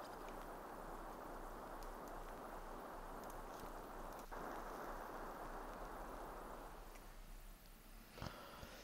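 Steady rain falling in the Harvest Moon farming video game, a dense continuous hiss that fills the scene with no talking, a faint click near the end.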